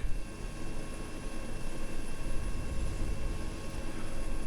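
A Russian Mi-8 "Hip" helicopter flies over the Chernarus Redux map in Arma 3, its rotor and engine making a steady, dense drone that stays continuous and close without a break.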